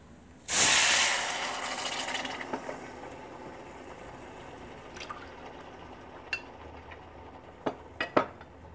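Water poured into a hot pan of toasted rice and cashews bursts into a loud hiss, then fades into a quieter simmering fizz with occasional clinks of cookware.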